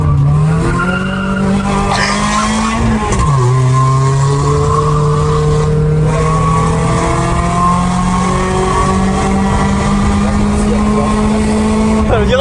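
Renault Twingo RS races up a closed-road hill climb, its engine loud and close as it climbs through the gears, dips on a shift, and then winds up again, with tyres squealing and voices talking inside the car.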